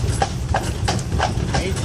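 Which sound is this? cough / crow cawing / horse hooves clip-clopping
horse hooves clip-clopping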